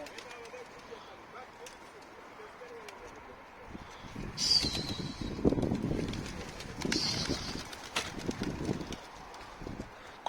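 Pigeons coo softly amid outdoor background noise, with a burst of wing flapping and rustling in the middle, over a low steady wind-like hum.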